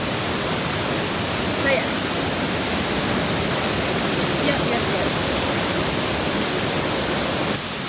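Steady broadband rush of a waterfall at Grand Etang in Grenada, heard close and loud throughout, with a brief spoken remark over the constant roar.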